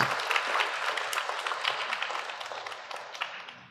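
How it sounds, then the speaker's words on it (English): A conference audience applauds steadily, the clapping dense at first and gradually thinning and fading out. "Please round of applause for him as I proceed"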